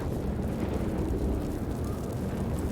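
Explosion in Baldur's Gate 3 after a jar is struck, a dense continuous rumbling blast with a heavy low-end roar that holds steady throughout, loud and close with no clear speech.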